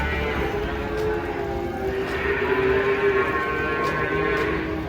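Cattle are unloaded from a truck, with a long drawn-out moo rising out of a steady outdoor background of engine and crowd noise, and some faint voices in the mix.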